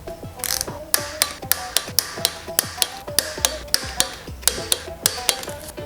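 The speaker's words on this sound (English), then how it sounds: "We're going to torque the conrod bolts, and I've lost my torque wrench." A torque wrench ratchets on BMW M42 conrod bolts, producing a loud, close series of about fifteen sharp, evenly spaced clicks.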